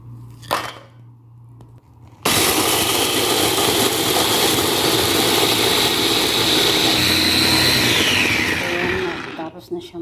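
An electric kitchen blender grinds biscuits into powder for a dates dessert, starting abruptly after a quiet moment and running as a loud, steady whirring roar for most of the clip before winding down near the end.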